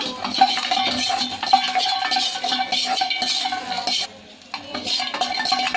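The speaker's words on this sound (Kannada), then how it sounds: "ಸ್ವಲ್ಪ ಲೈಟಾಗಿ ಲೋ ಫ್ಲೇಮಲ್ಲಿ ಹುರ್ಕೊಳ್ಳೋಣ ಕ್ಯಾಶ್ಯೂನಟ್ಸ್ನ" Cashew nuts roast in a pan over low flame while a spoon stirs them steadily, scraping and clinking against the metal with a faint sizzle underneath, briefly pausing near the end.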